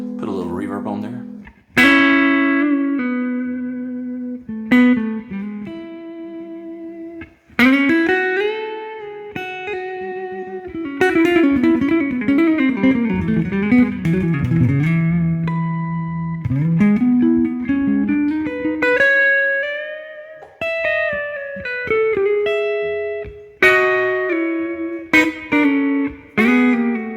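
Squier J Mascis Jazzmaster electric guitar with reverb added, played as a run of single notes, bends and strummed chords with ringing sustain, close and fairly loud, with a voice talking over parts of the playing.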